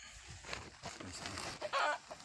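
Red junglefowl clucking outdoors, a series of short, moderately faint calls with a brief louder call near the end.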